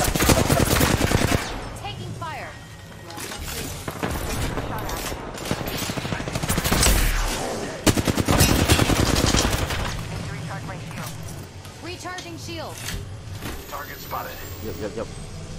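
Rapid automatic gunfire in the video game Apex Legends, dense bursts of shots that come and go over the full span beneath a steady game soundscape, with a voice talking over it.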